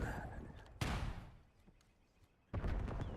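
Grenades exploding in the video game CS:GO, two sharp loud blasts about two seconds apart with a quieter stretch between, while a commentator speaks.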